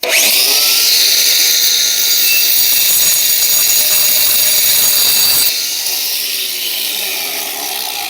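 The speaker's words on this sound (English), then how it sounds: "If you just let the weight of the grinder cut down, you'll create a little nick in the corner." An angle grinder cutting into a concrete paver, a loud, steady high-pitched whine with an abrasive grinding edge that drops slightly in tone partway through as the disc bites, close and continuous.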